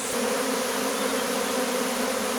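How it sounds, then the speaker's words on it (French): A small swarm of honey bees buzzing, a dense continuous hum with a steady pitch and bright overtones, close and unbroken, with no voices. "Bon bah le premier essaim de l'année"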